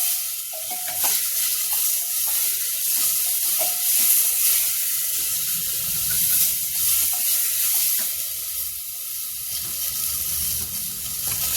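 Fennel seeds and roasted cumin crackle and sizzle in hot oil in a pan for a radish curry, a steady close hiss with scattered sharp pops and faint stirring clinks.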